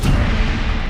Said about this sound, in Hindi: तभी कैमरे में रिकॉर्ड होता है एक जोरदार धमाका